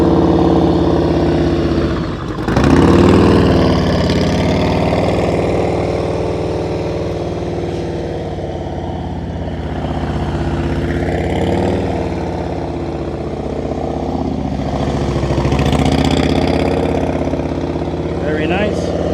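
A motorcycle engine idles and burbles during slow-speed riding practice in Maryland, rising briefly with a throttle blip, loud and close under an instructor's voice talking over it.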